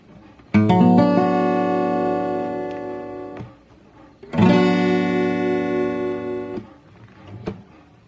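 Two strummed acoustic guitar minor chords with a dark colour, each ringing out for a few seconds before being damped, with a short quiet gap between them.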